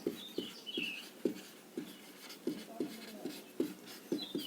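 Writing on a board during a physics lecture, heard as a quiet, fairly regular run of short tapping strokes about twice a second, with no talking over it.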